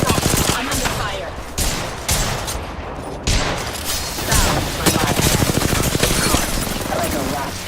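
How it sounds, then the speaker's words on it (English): Rapid bursts of gunfire in an indie horror video game, dense repeated shots in quick volleys over about eight seconds, with a voice speaking briefly among them. "I'm under fire."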